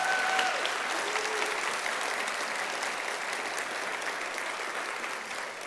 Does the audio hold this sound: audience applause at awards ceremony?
yes